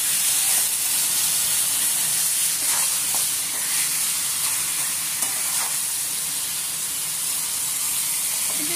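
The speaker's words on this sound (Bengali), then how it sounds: "এটা 3 থেকে 4 মিনিটের মতো চিকেনটাকে ভেজে নিতে হবে।" Marinated chicken frying in a pan for a Mughlai chicken handi, a steady loud sizzle and hiss with occasional stirring scrapes, close and continuous with no voices.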